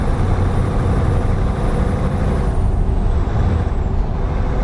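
A big Scania truck in Euro Truck Simulator 2 drones along with a loud, broad, steady engine and road roar, a faint high whine gliding downward through the middle, no talk over it.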